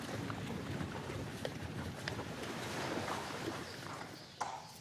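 Horses walking on the beach at Saint-Martin-de-Bréhal in Normandy during an equine thalassotherapy outing, with faint, scattered hoof clops under a steady wash of surf and wind.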